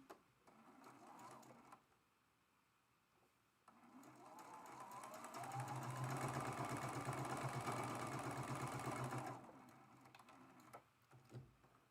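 Sewing machine stitching lines of quilt fabric corner to corner: a steady, fast mechanical whir running for about six seconds, close and fairly quiet, with softer handling noises before and after.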